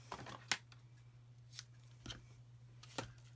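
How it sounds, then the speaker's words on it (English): Scissors snip through ribbon while wrapping a long, narrow Christmas box: several quiet, sharp cuts spaced unevenly against a low hum, close and faint. "So I'm gonna cut it."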